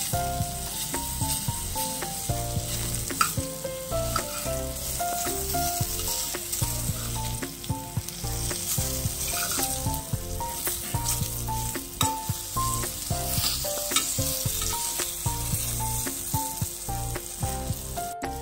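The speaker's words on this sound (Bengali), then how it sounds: "বেগুনটা ভাজা ভাজা হয়ে গেছে" Eggplant slices sizzle steadily in a pan of hot oil, with occasional clicks and scrapes from turning or stirring, while melodic music plays underneath throughout and no one speaks.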